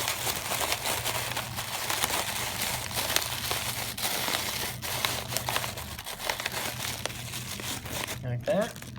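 A plastic grocery bag crinkles and rustles continuously as it is tucked inside a large snack bag, with a voice talking over it and a sharper crackle near the end.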